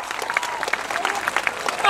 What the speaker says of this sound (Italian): Facciamo un applauso a mio nonno.